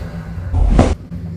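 A male patient draws one deep, close breath, a short airy rush about half a second long, during a treatment session for arm pain, with quiet room noise before and after.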